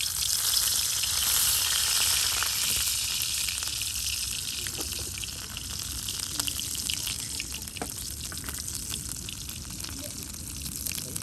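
Garlic frying in oil in a pan on a clay stove, a strong steady sizzle and hiss with faint scraping, heard close and continuous.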